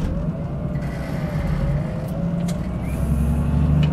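A city bus engine pulls away slowly from a red light in second gear at around 1000 rpm, a steady low droning rumble that rises gradually as it gains speed, with no talk over it.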